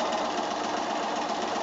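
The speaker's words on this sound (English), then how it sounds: "You can just pop the next one in and just keep sewing if you've got a heap of them ready." A sewing machine stitching quilt block pieces made from 2 1/2 inch squares runs steadily at speed, a loud close continuous mechanical whir with a fast rhythmic hum and no talking.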